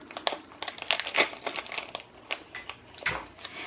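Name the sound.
sealing a plastic favor bag with Scotch tape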